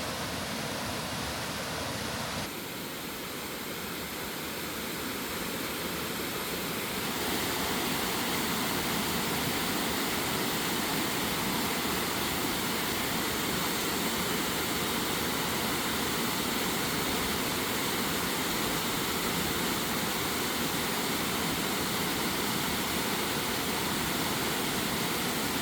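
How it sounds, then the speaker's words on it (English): Constant rushing water roars like a distant waterfall, Mouse Creek Falls in the Smoky Mountains, a broad steady hiss that grows slightly fuller after the first few seconds. "I can hear a waterfall."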